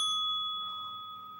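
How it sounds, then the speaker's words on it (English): A single bell struck once, giving a clear bright ring that slowly fades away, quiet and alone with no talking. "oh, we gotta ring the bell."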